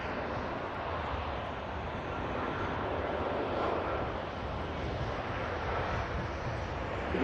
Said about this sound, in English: Sun Express next to land.